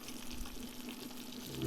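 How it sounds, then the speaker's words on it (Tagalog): A little water is poured into a pan of caramelizing butter and brown sugar, giving a soft, steady liquid gush and hiss with a low hum beneath, heard alone and fairly quiet. "Pagkatapos yan, lagyan mo konting tubig."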